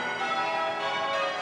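Church bells peal on Christmas Day, a sustained, resonant ringing with overlapping tones that hums on steadily at moderate distance.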